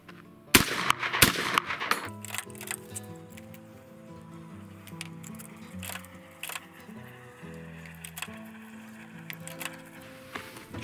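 A shotgun fires a reloaded shell, a sharp loud blast followed by a second report, then quieter clatter and handling noises around a range, with no speech.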